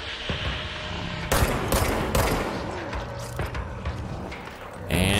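Gunfire in Control: AWE sounds as several loud bursts of shots against enemies, broken by short pauses and mechanical clicks, with another burst at the very end.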